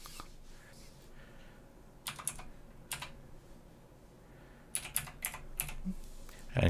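A computer keyboard is used to enter a username and password, with two short bursts of quick, light key clicks separated by a quiet pause, close by and without speech.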